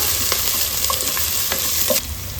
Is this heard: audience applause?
no